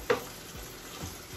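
Arugula dropped into a hot pan with a sharp burst of sizzling, fading into a steady, quiet frying hiss with a few soft pops.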